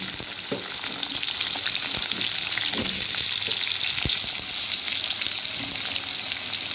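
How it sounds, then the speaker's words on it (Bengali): Potatoes fry in hot oil in a kadai, giving a dense, steady sizzle with scattered soft taps and scrapes from stirring throughout. "তেলটা ভালো করে গরম হয়ে গেলে আলুগুলো আগে ভালো করে ভেজে নেবো লাল লাল করে।"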